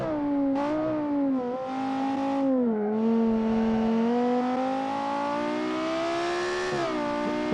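A car engine in a racing video game drones and revs continuously, pitch rising and falling with gear changes, loud and close with no talking.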